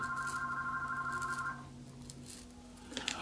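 A telephone rings with an incoming call, giving a steady electronic trill that is loud and close. It stops partway through, followed by a few faint clicks in a quiet room.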